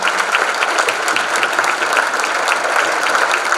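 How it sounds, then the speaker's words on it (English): An audience at the 2019 Lapeer Citizen of the Year awards ceremony gives a steady, dense round of applause that holds evenly throughout, with no speech over it. "Let's give them all a great big round of applause again"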